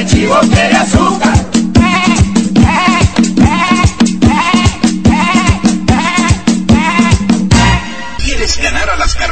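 Goat bleating sound effect played over a radio show: a long, loud, wavering series of bleats heard close and alone, ending abruptly.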